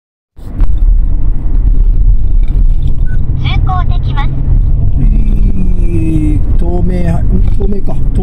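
A car drives on the road for about 130 km home, its steady low engine and tyre rumble continuous and loud, with brief chimes or tones and voices under it.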